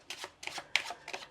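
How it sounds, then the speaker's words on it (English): A deck of playing cards being shuffled during a card trick, four quick riffling bursts in close succession, near and crisp, with no voices. "and they give them a shuffle"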